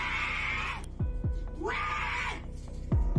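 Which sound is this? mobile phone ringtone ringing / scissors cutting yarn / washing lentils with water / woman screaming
woman screaming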